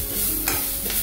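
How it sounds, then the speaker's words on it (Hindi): Masala and curry leaves fry in a couple of spoons of ghee over a low flame, a steady close sizzle with a brief stirring scrape partway through. "मसाला अभी फ्राई हो रहा है"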